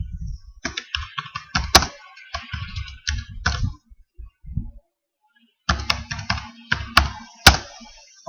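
Bursts of typing on a computer keyboard while filling in a Google Form, with irregular clicky keystrokes in short runs, a pause of about two seconds midway, then more fast typing, close and alone.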